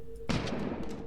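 A single sharp gunshot in the video game The Looker, a sudden loud crack with a short ringing decay, heard alone over a faint steady background hum.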